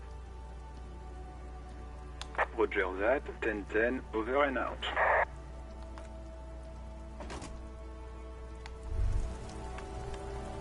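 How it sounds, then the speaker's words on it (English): Rain falls steadily on a white-and-blue police motor carriage in the video game Disco Elysium, a soft continuous patter under a crackly radio voice briefly talking, with a low thump near the end. "Droplets of rain fall on the white on blue police livery of the motor carriage."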